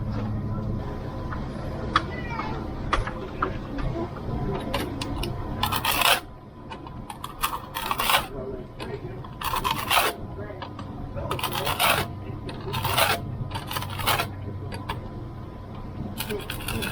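Steel trowel scraping and smoothing a Cement All patch on a concrete block wall, a steady close rasping scrape with bursts of broadband scuffing strokes repeating through the second half.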